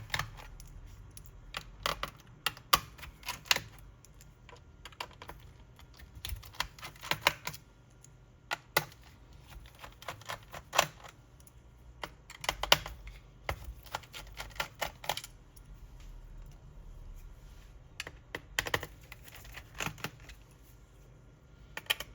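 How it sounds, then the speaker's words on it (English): Small screws being removed while taking a laptop apart, a steady run of sharp, close clicks and ticks from the screwdriver and parts, irregular in rhythm and heard alone without talk. "Just removing screws, nothing out of the ordinary."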